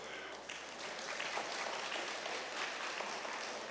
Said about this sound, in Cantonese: 俾啲掌聲嘅。